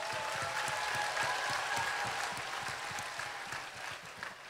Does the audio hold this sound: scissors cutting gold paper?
no